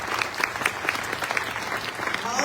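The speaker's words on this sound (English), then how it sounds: "give her a round of applause." An audience at a county small business address breaks into applause, steady overlapping claps from many hands, moderately loud with no voices over it.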